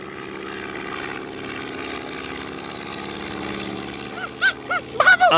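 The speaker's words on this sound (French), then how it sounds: "ce Piper Cub n'est pas très rapide" A Piper Cub propeller airplane drones steadily at moderate volume, its engine a continuous buzzing hum, joined near the end by a few sharp, brief higher bursts of sound.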